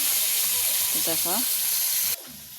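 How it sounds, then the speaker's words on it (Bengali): Silver carp pieces frying in hot oil give a steady, loud sizzling hiss. A brief voice cuts in midway, and the sizzle drops off sharply near the end. "তারপরে আমি আরও দুটা মাছ দিয়ে দিলাম তেলের মধ্যে"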